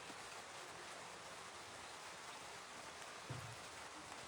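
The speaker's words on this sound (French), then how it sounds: "il pleut un peu" Light rain falls as a steady, soft hiss throughout, with a brief low thump near the end and no voices.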